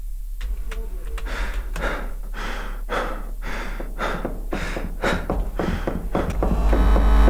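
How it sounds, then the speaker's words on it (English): Heavy, rhythmic breathing from a monster in a horror video game, loud and close, with repeated deep inhales and exhales that grow stronger toward the end. "He's breathing heavy right now."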